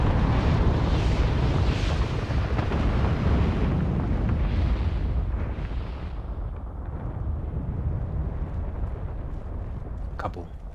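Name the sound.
explosion in the video game Final Fantasy XIV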